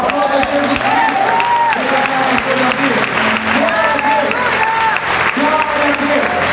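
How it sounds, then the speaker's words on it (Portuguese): A church congregation applauds in a steady, dense wash of clapping, with sung or spoken voices running underneath throughout. "Aplauda Jesus Cristo."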